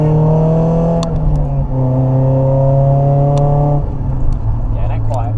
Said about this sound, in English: we're just gonna go through a few twisties now with Finn and see what the car's saying